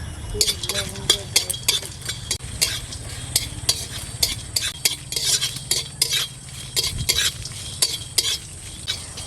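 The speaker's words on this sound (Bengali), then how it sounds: "মশলাটাকে ভাজা হয়ে গেছে এবার ঢেলে নেব" Four chillies, cardamom, cinnamon and cumin fry in hot oil with a steady sizzle, while a metal spoon scrapes and clinks against the pan in frequent, irregular strokes close up.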